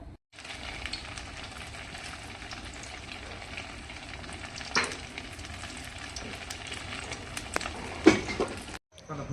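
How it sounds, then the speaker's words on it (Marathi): Small sabudana vadas made with potato fry in hot oil in a kadhai, giving a steady, moderately loud sizzle throughout with a few brief louder crackles and spits. "बटाट्याचं असं छोटं छोटं वडं करून घेतलं, म्हणलं आता तळावं।"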